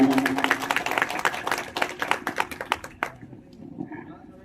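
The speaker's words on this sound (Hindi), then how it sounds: "संजय शर्मा, इनके लिए जोरदार तालियां" A crowd applauds the nodal officer Sanjay Sharma as he is called to the stage at a newspaper's celebration event, with dense clapping that thins out and fades after about three seconds, leaving faint room noise.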